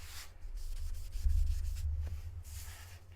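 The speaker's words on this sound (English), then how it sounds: "we're going to buff this wax out" Wax buffed on a sticky-side-up silkscreen for a chalk transfer craft, heard as a few close soft rubbing strokes with pauses between them.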